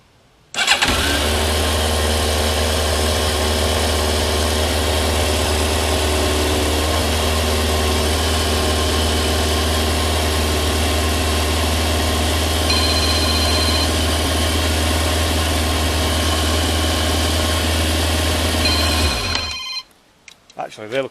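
A Yamaha Thunderace motorcycle sits idling while its carburettors are balanced, a loud, steady, close engine drone that runs unbroken for about nineteen seconds before cutting out abruptly, with a faint ringing tone appearing briefly partway through.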